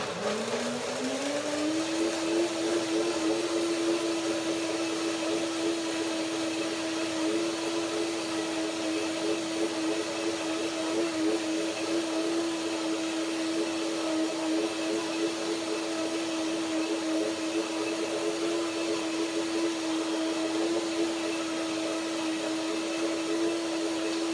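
Kitchen blender whirring through a batch of chili cashew mayonnaise, spinning up over the first two seconds into a steady high motor whine that holds unbroken for over twenty seconds with no talking.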